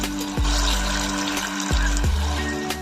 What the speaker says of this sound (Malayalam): ഇതിൽ നിന്ന് നമുക്ക് ഓരോ ബോളുകളാക്കി ഇതുപോലെ എടുത്തിട്ട് ചൂടായ ഓയിലിലേക്ക് ഇട്ട് കൊടുക്കാം.